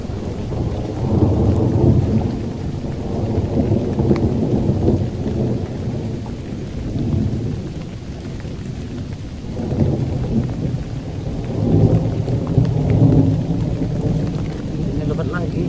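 Heavy rain pours down around a campsite, a dense rumbling wash with swelling, rolling thunder that rises and fades in waves; low, muffled voices talk beneath the downpour.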